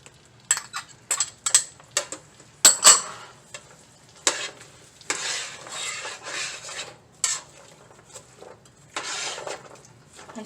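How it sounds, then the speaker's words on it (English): A spoon scrapes and clinks against a pan while chicken menudo with carrots and raisins is stirred, in a run of quick knocks followed by longer scraping strokes over a faint sizzle, close and alone. "And stir it."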